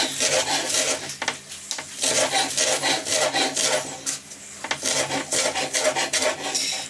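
Knife chopping wild garlic on a board, a rapid run of scraping, rasping strokes in uneven bursts, close and fairly loud, with no talking.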